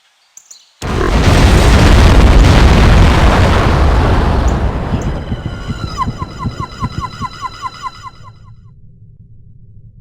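A huge explosion in the PC spy game No One Lives Forever booms loudly and rumbles on, slowly decaying over several seconds. Faint chirping and pulsing effects fade in near the end.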